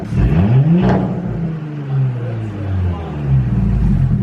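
Close, loud revving from a 2018 Audi S5 fitted with an AWE exhaust: a pitch sweep climbs and falls, then settles into a deep, lingering exhaust drone.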